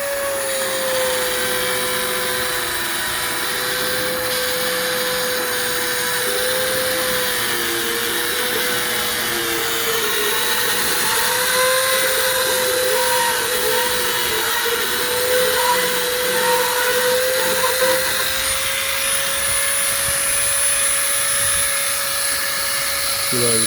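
A loud power auger whines steadily while drilling material out of a 2005 Toyota Tundra headlight assembly, a sustained motor drone with slight pitch wavers throughout.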